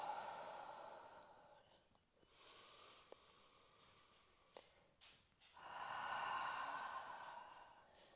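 Slow, deep breaths in through the nose and out during a calm yoga session, several soft, airy, close inhales and exhales alone in a quiet room.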